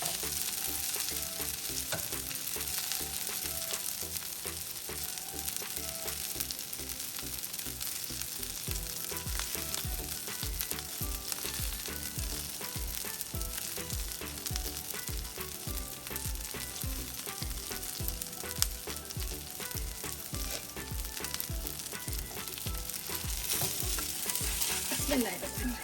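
A black bean burger patty fries alone in a small pan, with a steady soft sizzle and crackle running throughout and no talk.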